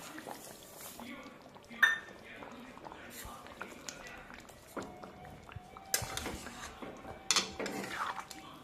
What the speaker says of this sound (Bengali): চিনিটা এখানে ভালো করে মিশিয়ে দেবো।